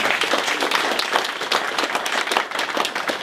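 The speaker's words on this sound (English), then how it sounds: "So a big round of applause for all of you." Steady applause from a crowd at a climate change talk, dense overlapping claps holding at an even loudness throughout without any talking.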